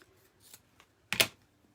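Scissors cut through excess deco mesh on a Halloween wreath: a soft rustle, then one crisp, close snip with a brief crunch of synthetic mesh.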